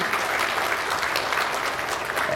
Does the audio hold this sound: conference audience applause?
yes